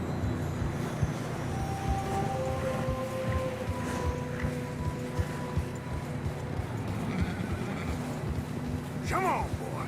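Horses in Red Dead Redemption 2 trudging through fresh snow on a narrow path, with a drawn-out neigh and muffled hoof steps over low wind, and a voice speaking at moments.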